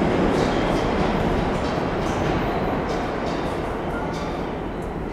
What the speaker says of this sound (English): I'll be taking the downtown train